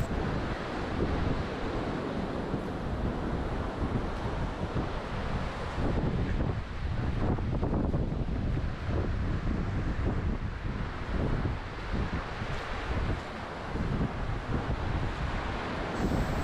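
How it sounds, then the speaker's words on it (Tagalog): Strong, relentless wind roars across a seaside campsite in Quezon Province, buffeting the microphone with waves and surf churning beneath it, loud and unbroken. "Dahil hindi namin inaasahan na ganito kalakas ang hangin dito."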